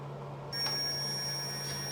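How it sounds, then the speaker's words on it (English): Multimeter continuity tester across the ignition points of a BSA Bantam starts a steady high tone as the points close, holding on continuously over a low background hum. "points are now closed and it's making that buzzing noise."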